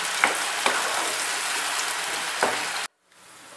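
Garlic, onion and ginger paste frying in a pan, a steady dense sizzle with a few sharper crackles and stirring knocks, close and fairly loud, cutting off abruptly near the end to a faint hiss.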